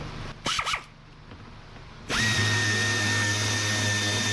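A power tool backs screws out of a car's splash shield: a few brief scraping sounds come first, then a loud, steady high-pitched motor whine runs nearby to the end.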